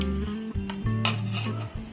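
A metal kitchen vessel and a strainer are set down and shifted on a counter while making gooseberry juice, giving short clanks and scraping knocks close up with a faint hum beneath.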